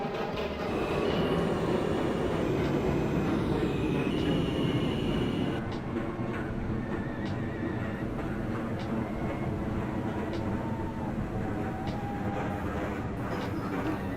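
An E train running on a subway line in the OpenBVE train simulator game, a steady loud rumble of rolling wheels and car noise with faint clicks and squeals throughout, continuous from start to finish.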